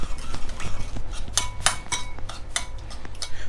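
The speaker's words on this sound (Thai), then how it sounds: "เราคนให้เข้ากันเลยครับคนเบาๆนะ" A spoon stirs fermented soybean dipping sauce mixed with sweet dark soy sauce and sesame oil in a bowl, giving a run of light, quick clinks and scrapes against the dish, close and unaccompanied.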